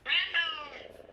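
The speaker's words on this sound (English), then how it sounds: "the cat sound effects." A short cat meow from a lightsaber sound font, a single bright, close, loud cry that dips and trails off in about a second.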